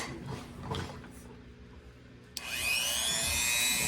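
A power tool starts up and whines steadily as it is used to shape air dry clay jewelry, close and fairly loud after a quieter stretch of handling noises.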